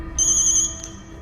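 A mobile phone rings with an incoming call, giving one short, bright electronic ringtone burst that is clear and close before cutting off.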